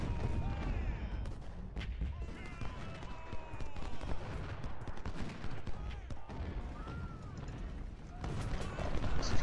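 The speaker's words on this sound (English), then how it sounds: "Just pound that artillery." In a Civil War battle in Ultimate General: Civil War, artillery booms and massed musket volleys crackle in a dense, continuous barrage. Sharp reports layer over a rumbling din throughout.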